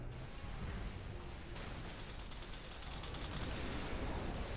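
Explosions and gunfire in the Halo 3 video game with a cursed mod in two-player co-op, a dense, continuous barrage of blasts and shots that stays loud throughout with no talk.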